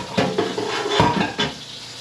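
A spatula stirs wild hog stew in a pot, scraping and knocking against the metal in a few uneven strokes over a soft bubbling simmer, close and fairly loud.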